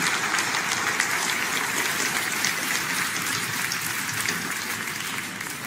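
Sustained applause from a live audience at a music performance, welcoming an honored artist to the stage; a dense, even wash of clapping holds steady throughout at moderate level, with no voices over it.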